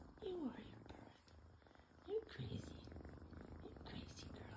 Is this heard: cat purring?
yes